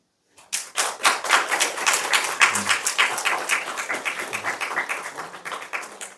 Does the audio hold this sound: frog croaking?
no